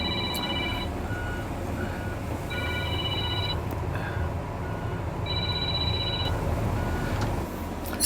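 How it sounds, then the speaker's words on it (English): A telephone rings in repeated bursts of electronic trills, heard three times at even intervals over a constant low engine hum inside the cab of a Deere 670G motor grader. "I got a phone ringing somewhere."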